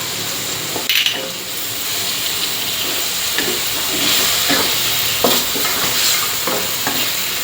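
Chicken with red curry paste, pea eggplants and kaffir lime leaves stir-fried in a pan, a steady loud hissing sizzle with soft scraping and occasional clinks of the spatula, close up and without speech.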